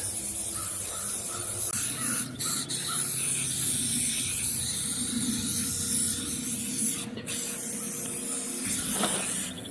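Waterproofing reproofer sprayed from a can onto an oilskin jacket, a steady close hiss that runs almost without a break, with crows cawing faintly in the background.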